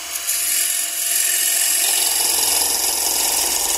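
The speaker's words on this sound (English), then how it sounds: "the first thing I'm going to do is center drill it" A shrill, steady machine whine runs continuously, with a lower rumbling hum joining in partway, close and loud, as a wood lathe center drills end grain.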